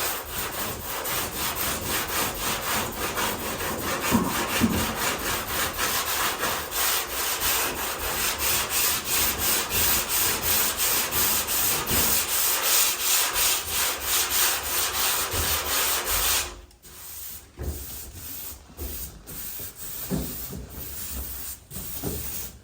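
A sanding block rubbing back and forth over a car body panel during skim work, a rapid, even scraping rhythm for most of the time before it breaks into a few separate strokes, close and loud.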